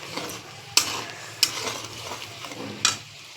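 Spice paste fries in a pan for a Bengali doi katla fish dish, with a soft sizzle under three sharp metallic clinks of a spatula stirring against the pan, each clink about a second apart. Close and fairly loud, with no voices.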